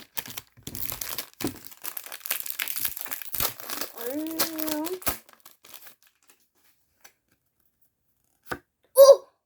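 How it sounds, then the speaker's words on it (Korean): Pokémon card booster packs are torn open by hand, with crinkly foil tearing and rustling running under steady talk, then a couple of short, sharp bursts after a quiet gap near the end. "2팩 개봉"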